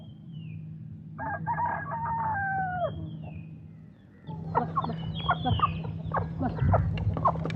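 Rooster crowing in a village setting: two long drawn-out crows, each with a wavering ending and separated by a short pause, over a faint steady hum, with a few clucks near the end.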